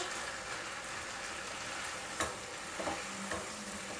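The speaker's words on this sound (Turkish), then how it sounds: "domates ve sarımsakla böyle birkaç defa çevirip kavuracağım" Tomatoes and garlic sauté in a pan, a steady close sizzle with a few scraping turns of the spoon, quiet and without talk.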